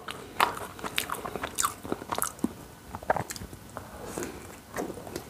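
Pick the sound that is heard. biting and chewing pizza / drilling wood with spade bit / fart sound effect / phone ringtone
biting and chewing pizza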